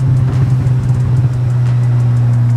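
A Stage 1 tuned Audi S3 with its exhaust resonator deleted idles outdoors in the wind, giving a loud, steady low drone with a slight burble early on and no talking.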